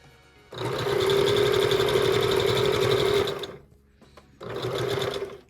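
Sewing machine stitching a quilt block made from Tula Pink fabrics, a steady loud motor whir running for about three seconds, pausing briefly, then starting again.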